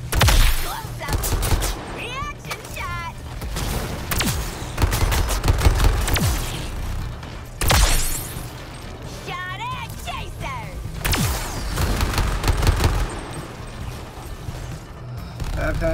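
Gunfire in the video game Suicide Squad: Kill the Justice League, with repeated bursts of rapid shots and impacts forming a busy, loud fusillade over game music and effects, while a voice talks over it.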